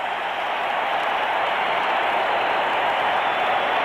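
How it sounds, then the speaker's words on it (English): A dense, roaring crowd cheers steadily at a 1984 Mets versus Cardinals baseball game, loud and continuous like a broad wash of noise with no distinct voices. "Listen to this crowd. Woo. They're going bananas."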